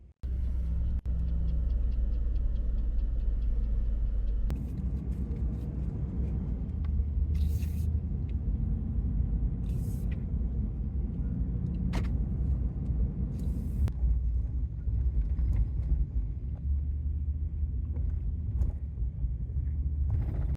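A pickup truck with a camper rolls along a road, giving a continuous low rumble of engine and tire noise with occasional faint clicks and rattles, and no one speaking.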